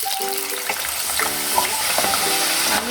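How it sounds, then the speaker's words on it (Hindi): Potato pieces for cheesy french fries fry and sizzle loudly in hot oil up close, with a steady crackling hiss and some stirring clatter throughout. "सबसे पहले हम आलू को कर लेंगे फ्राई।"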